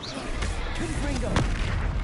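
A Confringo blast spell explodes during Hogwarts Legacy combat, a brief booming burst over a dense rumbling game soundscape with a voice speaking over it.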